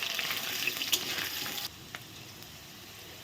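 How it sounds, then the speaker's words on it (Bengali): Potato pieces fry in hot oil in a pan while being stirred, giving a loud close sizzle with a few clinks that suddenly drops to a much quieter hiss partway through. "এখন আলুগুলো ভেজে নেব সবগুলো আলু দিয়ে দেওয়া হলো এখন নেড়ে করে নেব"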